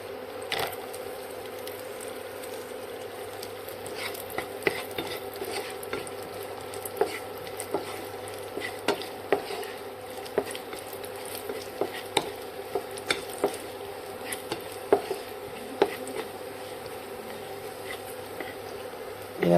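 Cashews and raisins frying in ghee for semiya kesari, stirred with a spoon in a pan, giving a soft steady sizzle with light scraping clicks and taps scattered throughout, no voices.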